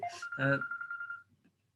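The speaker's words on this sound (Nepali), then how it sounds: "एकछिन मेरो फोन आएको छ" A mobile phone rings during a lecture on company law: a brief run of bright electronic ringtone notes sounds close by, then stops abruptly. No one speaks.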